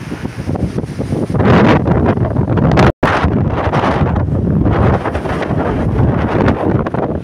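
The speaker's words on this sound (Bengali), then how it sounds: "প্রচণ্ড ঝড় বইছে এখানে।" Strong stormy wind blowing beside a river where wheat is laid out to dry, a loud, constant buffeting roar across the microphone with one brief dropout partway through.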